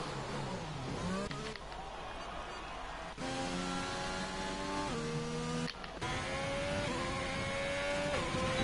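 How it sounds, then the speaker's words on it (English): A Ferrari engine in a racing video game drones steadily, its pitch sweeping up through several gear shifts with brief dips between them, loud and continuous. "Listen to the nice engine sound of the Ferrari."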